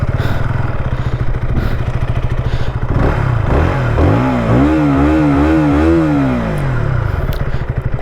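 A KTM Duke 160 motorcycle engine idles with a steady throb, then revs up sharply several times in rising and falling surges before settling back to idle, loud and close with no talk.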